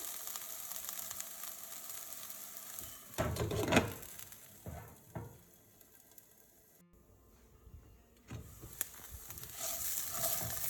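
Raw banana pieces frying in a pan for an Andhra thali, a soft steady sizzle with louder bursts of crackling and clatter as they are turned, alone without talk.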